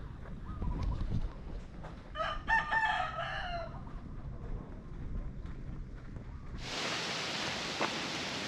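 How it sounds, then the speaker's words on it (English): A rooster crows once at a distance over low wind noise in Bora Bora, followed by a loud hiss of wind or rustling near the end. "Chickens are telling, the roosters are telling us all about it."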